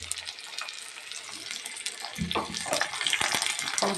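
Curry leaves and small shallots drop into hot oil for drumstick-leaf sambar, a soft steady sizzle that swells into louder crackling and spitting once they hit the pan, close up and without speech.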